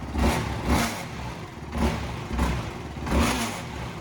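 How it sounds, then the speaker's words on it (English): A 2021 Yamaha YFZ 450R SE ATV's light, fast-spinning 450 engine is revved four times in a steady rhythm, each rev rising and falling with a raspy mechanical roar, loud and close, with no speech. "watch when I rev, the motor's so light and it spins so fast"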